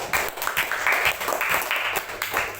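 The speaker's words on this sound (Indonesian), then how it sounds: "beri tepuk tangan untuk kelompok 2." Applause in a fifth-grade classroom for a student group, many small hands clapping in an uneven, pulsing rhythm, fairly close and moderately loud.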